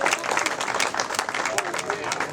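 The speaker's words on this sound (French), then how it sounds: "On peut les applaudir." Audience clapping for a girls' football team at the opening of a new synthetic pitch, a fairly close, steady patter of many hands with voices talking underneath.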